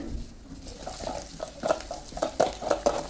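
Ginger garlic paste and turmeric stirred in a hot pan for a tomato curry, soft scraping strokes with a light sizzle that pick up into quicker, louder scrapes toward the end.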